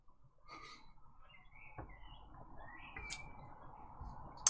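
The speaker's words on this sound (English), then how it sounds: "Sorry if you can hear bird song," Birdsong drifting in through an open window on a hot day, a few faint chirps and short whistled calls scattered over low room hum, distant and soft.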